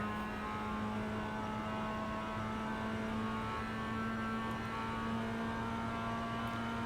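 Race car engine in the iRacing sim, a steady, continuous tonal drone with strong harmonics, held at a fairly constant pitch throughout rather than rising or falling sharply; the braking itself is not distinct, and no one speaks.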